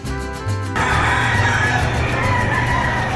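Chickens and roosters at the Padre Garcia, Batangas livestock auction market, a steady bustle of clucking and crowing with a sustained tonal call at first, then dense ambient market noise throughout.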